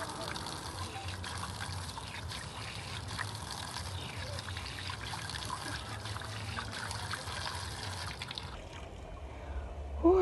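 Tap water running steadily into a sink while a face is washed during a skincare routine, a faint, continuous trickle and splash close by that cuts off near the end.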